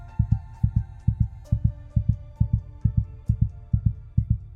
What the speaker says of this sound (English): her erratic heartbeat drowned out everything else.